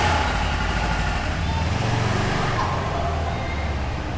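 Kubota RTV XG850 Sidekick UTV driving on a test ride: a continuous, loud engine drone and rushing road noise from inside the vehicle, with people talking over it.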